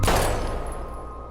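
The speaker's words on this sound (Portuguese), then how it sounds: "ele deu um tiro no meio da testa da Chloe." A single loud gunshot in the Life is Strange video game, a sharp close blast followed by a decaying rumble and reverb tail, heard alone.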